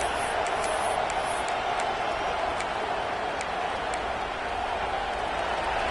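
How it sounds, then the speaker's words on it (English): A football stadium crowd roars as a dense, steady wall of noise, loud and continuous, with faint sharp ticks scattered through it. "This crowd, full throat, spreading the eardrums and letting them know it's going to be a long day."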